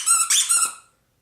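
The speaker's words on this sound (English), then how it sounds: "The Poro that we got this year is this guy, who also squeaks." A plush Poro toy squeaks in three quick, high, close squeezes that trail off into silence.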